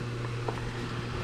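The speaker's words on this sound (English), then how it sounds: "sorry about the fan" A steady low electric fan hum with a constant airy whoosh, running evenly throughout with no talking.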